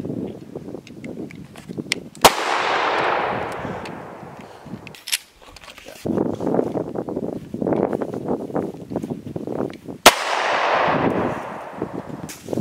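Two sharp, loud 9 mm handgun shots fired outdoors several seconds apart, each with a short echoing tail, over wind noise and background rustling.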